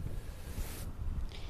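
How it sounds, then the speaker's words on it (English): Strong wind blowing at a grass fire scene in Kansas, a loud continuous roar and buffeting of gusts against the microphone, with no talk. "It's really windy."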